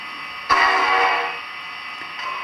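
A Big Boy steam locomotive, standing still, gives one short blast of its steam whistle: a loud, rich tone that lasts about a second, then fades, leaving quiet mechanical noise.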